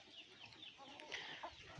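Backyard hens let out to roam on a cool day cluck faintly and intermittently, with soft scattered calls at a distance.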